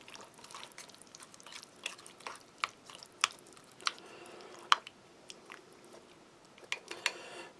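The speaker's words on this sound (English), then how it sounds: "Nice big bite." A big bite of sausage and sauerkraut cabbage being chewed close up, with moist, squishy mastication and sharp wet crunchy clicks repeating irregularly, with no talking.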